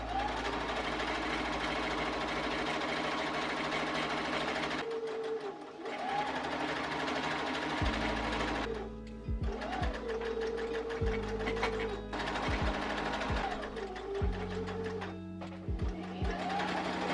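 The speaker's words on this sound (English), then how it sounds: "I'm going to sew all along these 2 edges." A sewing machine stitches along two dress edges, a loud, close, steady mechanical whir running in long bursts separated by brief pauses.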